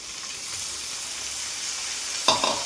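Green garlic hits hot oil in a pan along with bay leaves and red chilies, crackling in a steady sizzle that flares into a louder spatter near the end.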